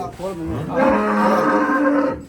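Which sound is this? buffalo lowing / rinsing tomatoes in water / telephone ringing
buffalo lowing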